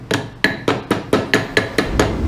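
Hammer tapping a pin back into its hole on a KitchenAid stand mixer during a worm gear repair, eight sharp metallic taps at a steady rhythm, close and clear with no talk.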